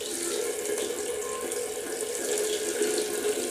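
Hot water runs steadily from a tap fitted with a non-return valve, a constant close hiss and splash that continues unbroken, with no voices.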